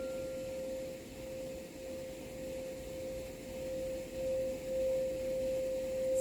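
Sound bowl struck with a mallet, a soft steady pure tone ringing at low level over faint room noise, sustaining through the whole stretch with gentle swells in loudness.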